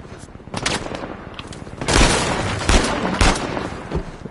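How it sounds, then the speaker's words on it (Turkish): Dense bursts of gunfire in Uncharted 4 on PS5 crackle and boom repeatedly, heavy volleys overlapping in a loud, chaotic barrage. "Acayip silah sesleri geliyor yalnız."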